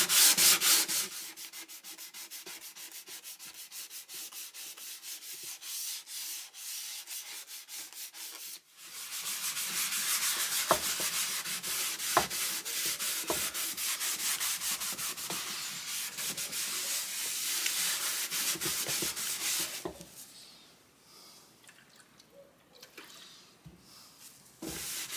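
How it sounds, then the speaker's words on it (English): Wooden back of an archtop guitar kit body being sanded by hand, a steady close rasping rub with a brief pause near nine seconds and a quieter stretch at the end. "So we're going to sand that"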